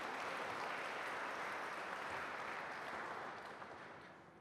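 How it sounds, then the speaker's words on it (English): Faint, steady clapping from a parish retreat congregation applauding seminarians, a dense patter that tapers off toward the end. "you can clap for them."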